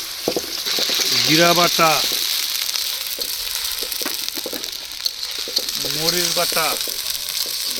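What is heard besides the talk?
chopped onion frying in oil for chicken keema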